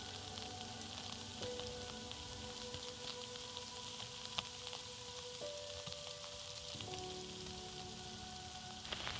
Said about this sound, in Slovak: Začalo dosť intenzívne pršať.